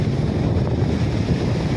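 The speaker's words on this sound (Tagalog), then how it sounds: "Maalon." Typhoon-driven waves churn and surge under constant wind rumble, a dense, rough wash of water noise with no voices.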